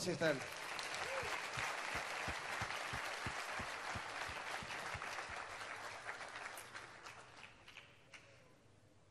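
Applause for a speaker at a church gathering, a full, steady wash of clapping from a large congregation that gradually thins and fades toward the end, with a brief spoken word near the close.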